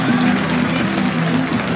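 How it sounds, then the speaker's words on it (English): An audience at a speaker's talk bursts into loud, dense applause mixed with crowd noise and raised voices, filling the whole short stretch without a break. "Round of applause if you got this one correct."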